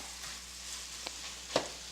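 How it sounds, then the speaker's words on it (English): Onions cooking in a pot on the stove are stirred: a steady soft sizzle runs underneath, with a couple of faint scraping knocks of the spoon and one clearer clack near the end, no talking. "I'm going to go ahead and give my onions a little bit of a stir"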